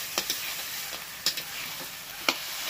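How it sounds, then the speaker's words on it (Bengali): Potato pieces sauté in a pan for a fish-head and cauliflower curry, giving a soft, quiet sizzle broken by a few sharp stirring clicks and taps against the pan, no voices. "আলুটা দিয়ে কষাতে হবে।"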